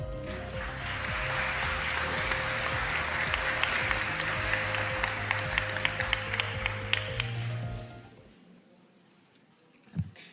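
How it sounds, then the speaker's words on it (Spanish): An audience at a congress event applauds the closing speaker, an admiral and congress member, with sustained loud clapping that stops abruptly near the end, followed by a brief thump. "pido un fuerte voto de aplauso"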